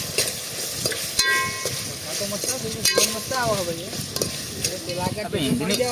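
Whole spices crackle and sizzle in hot oil for a pulao tempering in an outdoor farm setting, with utensil scrapes and clanks over the frying and a voice speaking intermittently nearby.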